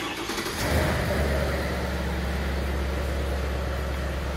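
A Genesis 5.0L R-Spec car engine cranks and catches just under a second in, then settles into a steady, close, low idle rumble that runs alone to the end.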